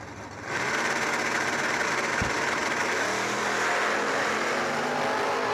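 Drag race door cars, a Camaro and a Nova, launch and run down the track at a racetrack, their engines a loud, steady, sustained roar heard from nearby after a quiet opening.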